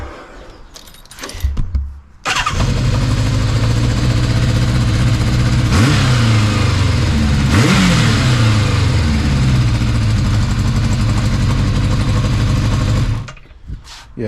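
A Kawasaki GPz550 motorcycle engine idles loudly with a rough, blowing exhaust note from an exhaust leak, revved briefly twice, then cut off near the end.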